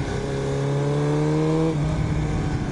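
A Kawasaki motorcycle engine drones steadily and close on a dusty ride, its pitch holding level and then dropping slightly as the throttle eases.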